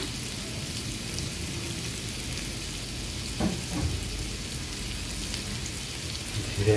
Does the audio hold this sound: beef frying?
yes